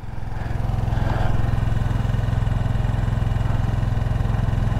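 A small Honda Monkey motorcycle engine idles steadily nearby, its fast, even thumping loud and constant throughout with a faint mechanical clatter and no talking.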